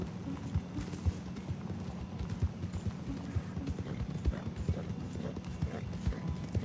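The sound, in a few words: horse hooves in a video game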